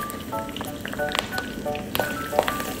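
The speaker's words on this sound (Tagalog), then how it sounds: "Dito tayo mag-igisa." Sautéing in a pan for pork belly dinuguan, a steady crackling sizzle with small popping spatters, heard up close on its own.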